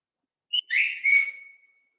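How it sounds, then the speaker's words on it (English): An Android phone's whistle notification plays once: a short high chirp, then a rising and falling two-part whistle fading out, clear and alone against silence. "that's the whistle sound from Android"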